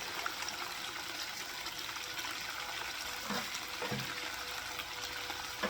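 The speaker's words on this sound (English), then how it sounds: "put some water in there" Water pours steadily into a container with a constant rushing splash, close by, and a couple of faint knocks partway through.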